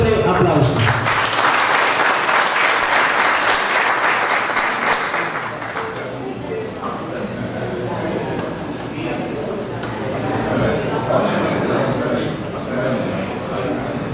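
Strong audience applause welcoming a speaker at an agreement signing with IICA and a mayor's office in Zacatecoluca, loud and dense at first, then thinning and carrying on more softly under murmuring voices.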